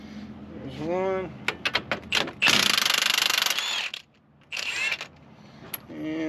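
A power tool removes strut bolts and nuts on a first-generation 300M front strut in two short, loud mechanical bursts close by, with someone talking around them.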